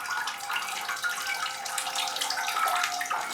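Water floods a plant tray filled with a peat and perlite mix, a steady, close rushing pour that runs unbroken throughout with no voices.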